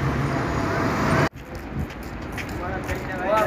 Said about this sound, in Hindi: मेरे राइट साइड पे ये देख सकते हैं जहाँ से इस वक्त ट्रैफिक रवा दवा है।